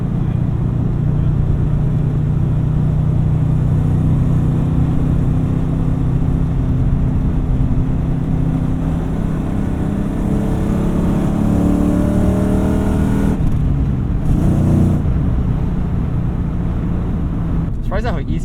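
A 1996 SN95 Ford Mustang GT's stock engine drones steadily and deeply from inside the car, holding a continuous low rumble that swells slightly before easing near the end, with people talking over it.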